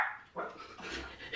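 A dog gives a few faint, short barks and whimpering yips indoors, distant and quiet with no talk.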